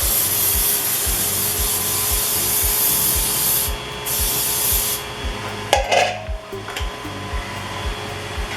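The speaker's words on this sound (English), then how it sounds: "I'm going to spray this bundt pan very well with some" Cooking spray hisses into a bundt pan in a steady loud burst that stops abruptly, followed by a few clattering handling sounds and a quieter background hiss.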